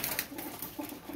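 A Chapra champion pigeon gives a brief, soft cooing call close by, a few low throaty pulses over a faint background.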